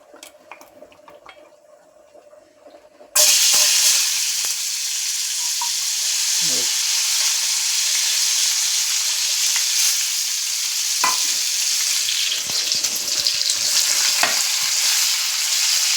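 Food frying in hot oil in a pan, a quiet start giving way to a loud, steady sizzle, with occasional stirring and clinks of utensils.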